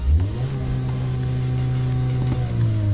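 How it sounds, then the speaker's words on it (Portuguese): A car engine revs under acceleration, rising quickly to a sustained loud drone, holding steady and dipping briefly near the end as the revs are cut, close and without talk. "Eu vou acelerar de novo, ó."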